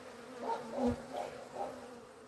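Honey bees buzz close by, a soft droning hum with several passes that swell and fade, fairly quiet overall.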